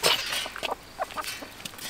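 Chickens clucking in short scattered bursts at feeding time outdoors, close by, over wind noise with no talk.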